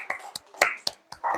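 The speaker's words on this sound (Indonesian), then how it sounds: "Tepuk tangan." Sharp hand claps come in a quick, irregular run of about six strikes in a quiet classroom setting, each crisp and close.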